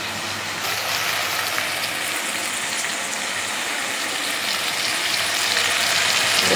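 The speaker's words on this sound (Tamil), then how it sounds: "நல்லா வதங்கிட்டு இருக்கு." Ingredients sauté in a pan for urundai kuzhambu, giving a steady, close frying sizzle that runs unbroken throughout with no voices.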